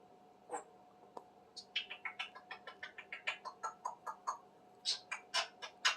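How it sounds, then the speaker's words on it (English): Smokey, a pet African grey parrot, chirps in a rapid series of bright, close chirps and short squawks with a fairly regular rhythm, indoors and fairly quiet. "Are you a happy African gray parrot?"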